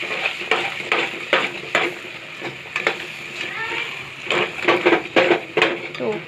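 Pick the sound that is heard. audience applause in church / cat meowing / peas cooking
peas cooking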